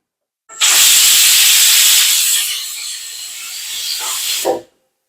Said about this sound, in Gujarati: હવે વિસલ કરી લઈએ